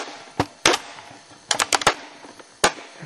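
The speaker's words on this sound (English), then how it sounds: "Sorry about the noise. Just playing with my tripod." Several sharp clicks and clacks of a tripod being handled, scattered irregularly, some in quick clusters, close and fairly crisp against a quiet background.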